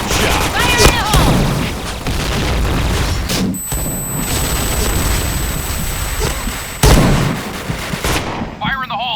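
Grenade blasts and gunfire in an online shooter match on the Sandstorm map, loud booming bursts and crackling shots in dense succession, with shouted voices between explosions.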